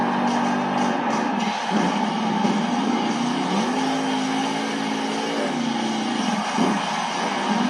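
A Monster Jam truck on BKT tires spins a donut in an arena in Portland, Oregon, its engine roaring loud and steady with rising and falling revs through the whole stretch.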